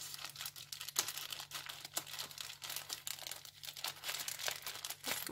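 A small parcel is being opened, its packaging crinkling and rustling in a steady run of close, soft crackles with a few sharper tears. No one speaks.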